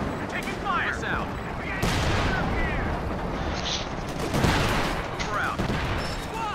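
Dense battlefield gunfire from a Company of Heroes 2 match, a steady crackle of small-arms and heavier bursts with a few louder booms, with voices talking over the din.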